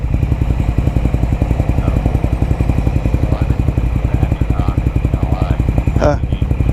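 A Kawasaki KLR motorcycle engine runs steadily in a close, even thrumming pulse through the whole stretch, with brief rattles and a sharp clack near the end, heard on a hot ride near a mountain.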